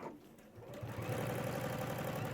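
Sewing machine stitching along the edge of PVC sheet at roughly 3.4–3.5 stitch length, starting after a brief pause and then running as a steady, fast, even mechanical whir up close.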